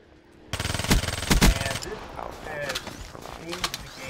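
Vesper submachine gun from Black Ops 3 firing full-auto in rapid stuttering bursts, loud and close, followed by scattered game sounds and mechanical clicks.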